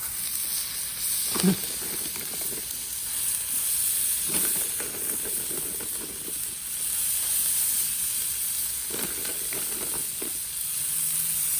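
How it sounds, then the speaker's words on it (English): Steady, hissing sizzle of breakfast food frying on a hot Blackstone griddle in a garage, with a few soft scrapes and clicks over the constant crackle. "Listen to that sizzle."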